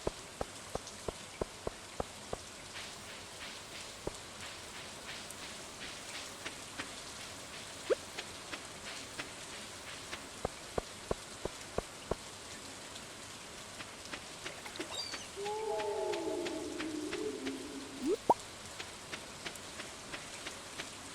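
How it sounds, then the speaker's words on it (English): Steady rain falling in the farming video game Stardew Valley, a soft continuous patter with occasional sharper drops and clicks, joined near the end by a brief brighter tonal chime. "rainy days are my favorite weather"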